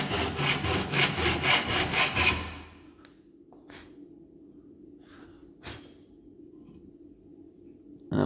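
A hand saw cuts wood for a through housing joint, making steady rhythmic rasping strokes for about two and a half seconds before stopping, followed by a quiet room with a few faint knocks.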